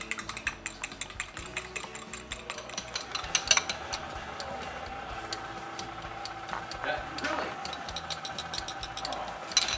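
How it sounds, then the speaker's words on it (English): Eggs being lightly mixed for a potato cannelloni filling, a soft irregular ticking and tapping of utensil against a bowl, faint and close, with occasional louder clinks. "And we mix the egg in there."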